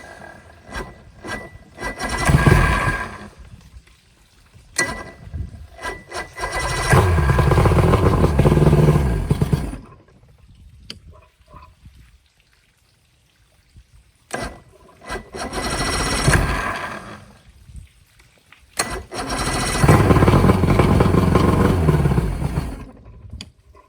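A boat engine running on bad fuel sputters in uneven bursts, surging loudly for a few seconds, then dropping to near silence before catching again, with no voices.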